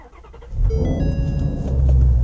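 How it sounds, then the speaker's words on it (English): A Ford Mustang GT350 engine cranks and fires, catching into a loud, deep rumbling idle that swells and holds close by, with no voices. "Fire it up here now."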